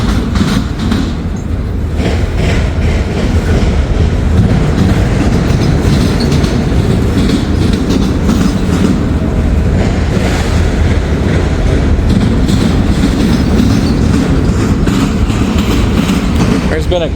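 A freight train rolls steadily out of a rail yard on a windy day, its wagons rumbling and clattering in a continuous loud roar with heavy wind buffeting throughout, and someone speaks briefly over it.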